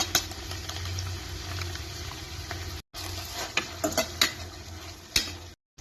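Egg noodles frying in a pan with chilli sauce, a continuous loud sizzle under repeated scraping and clicking stirring strokes, cut by a brief silent gap near the middle.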